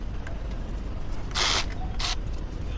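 A ratchet clicks in two short, loud bursts while bolts are tightened during installation of a DSX billet supercharger lid on a Camaro ZL1, over steady garage background noise.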